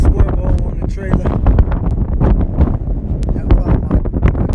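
Strong wind buffets the microphone outdoors beside a Silverado pickup towing a trailer, a steady low roar with gusty surges throughout, mixed with people talking.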